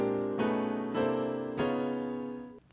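Piano chord walk-up played as three sustained chords struck about every half second, each rich and ringing, with the last one held and then cut off; no one speaks over it.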